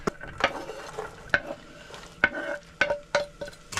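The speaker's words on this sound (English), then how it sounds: "Some of that bacon grease. And we're going to cook the veggies in that." Vegetables cook in bacon grease in a pan, stirred with a utensil that taps and scrapes in uneven strokes over a light sizzle, close and clear without speech.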